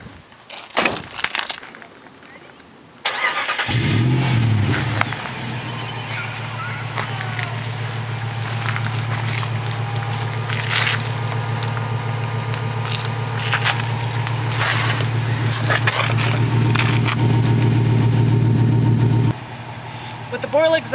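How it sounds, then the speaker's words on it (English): A 2005 Jeep WK with a Borla exhaust and a SuperChips 87 octane tune cranks and fires up, then settles into a steady, deep, droning idle that carries on close by for most of the clip. "Borla Exhaust, the tune that I'm running with it on the SuperChips is the 87 octane tune. So, this is what it sounds like."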